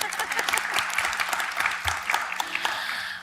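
Applause in a meeting room for Aline, the new coordinator, at a research launch event, a fairly soft, steady patter of many hands with a faint hum underneath.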